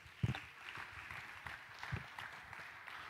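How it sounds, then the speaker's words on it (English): An audience applauds at a summit event, producing faint, distant, steady clapping with a few louder claps near the start, continuing for a few seconds. "Can we give another round of applause?"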